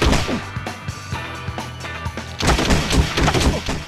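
Sharp, punchy gunshots and impact cracks from Bully Scholarship Edition gameplay hit in quick irregular succession, loud and close, with a denser cluster of hits toward the end.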